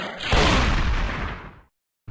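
Gunfire from an Android zombie shooter game played on PC, a loud sustained shotgun-like burst of blasts lasting over a second, then cutting to silence before a brief final pop.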